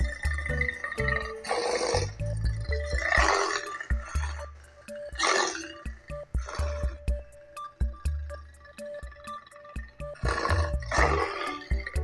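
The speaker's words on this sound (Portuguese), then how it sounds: "Leopardos, seus rugidos e sons." A leopard gives a series of deep, rasping roars in separated bursts across the stretch, each call fairly loud and near, with quieter gaps between them.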